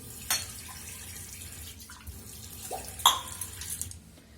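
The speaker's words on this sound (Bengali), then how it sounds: "এই যে গুনে গুনে এই জল নিলাম মেপে।" Water for red tea is measured out and poured indoors, a soft trickling run with a few sharper drips and splashes, close and fairly quiet, with no talking.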